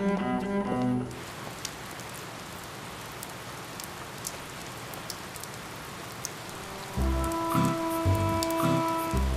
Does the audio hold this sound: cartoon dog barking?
no